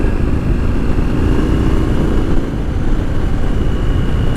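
A steady, loud engine drone with a low rumble runs throughout from a 2020 Triumph Street Scrambler motorcycle cruising at constant speed, with no talking.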